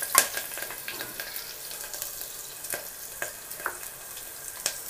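Green chillies frying lightly in hot oil for a restaurant-style mutton curry, a steady close crackling sizzle with scattered sharp pops and stirring clicks, no voices.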